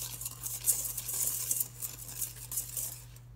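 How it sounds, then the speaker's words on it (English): Bath bomb mixture stirred in a bowl, a dry gritty scraping and swishing that rises and falls in quick repeated strokes, close up, under a steady low hum. "Mix that around until that's all and mixed"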